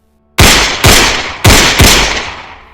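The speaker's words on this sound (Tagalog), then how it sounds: "Limang putok na sunod-sunod ang narinig mula sa bukid" Four gunshots go off in close succession in a rural field, loud sharp blasts with lingering decaying echoes, spaced unevenly about half a second apart.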